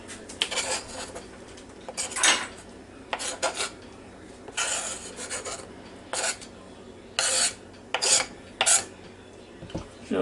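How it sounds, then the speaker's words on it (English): Boiled eggs tumbling into a mixing bowl of potato salad ingredients, a series of short scraping, clattering bursts against the bowl spaced irregularly over several seconds, close and fairly loud, no talking. "now here's those 2 boiled eggs. I'm going to dump it right in the same bowl"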